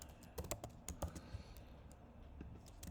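Code being typed on a computer keyboard while building a React app, a quick run of crisp separate key clicks that thins out to scattered taps, close and quiet with no voice.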